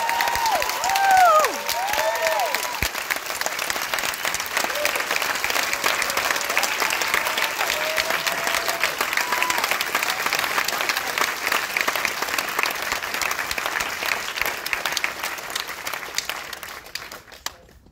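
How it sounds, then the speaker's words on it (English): Audience members at a film Q&A for Portrait of a Lady on Fire applaud long and loudly, with a few whistles and cheers early on, before the clapping fades out. "I wonder if you might give one more major round of applause"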